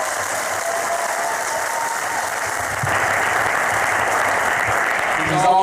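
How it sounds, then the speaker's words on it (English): Dense, steady applause from an audience at Lumumba's inauguration, honouring Congressman Thompson, growing slightly louder partway through and continuing without a break. "Please give him a round of applause."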